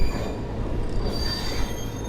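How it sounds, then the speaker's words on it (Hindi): A train rolls across the Pamban sea bridge with steady, dense rumbling and high, sustained metallic wheel squeal, close and continuous throughout, with no voices. "समुंदर में कैसे चलती है देखो ट्रेन।"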